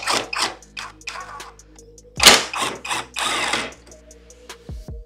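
Metal clicks and ratcheting turns of a 5mm Allen key loosening the fog light cover screws on a CFMoto 800MT motorcycle, heard as short close bursts with pauses, plus a few sharp knocks.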